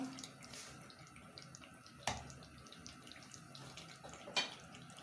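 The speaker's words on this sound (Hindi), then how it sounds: "अब मैं इसमें पानी डाल रही हूँ जितना मुझे शोरबा चाहिए" Water pours into a cooking pot of aloo chicken shorba in a home kitchen, a quiet, steady trickle and splash with two sharper clunks of the vessel, without talking.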